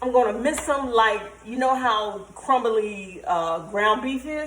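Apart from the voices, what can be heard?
No everyday noise stands out behind the speech.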